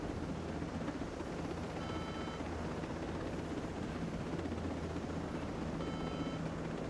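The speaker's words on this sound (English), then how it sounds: "Man, this helicopter's slow." A helicopter flies steadily in the video game Ghost Recon Breakpoint, its rotor and engine drone forming a constant, even hum throughout with no voices.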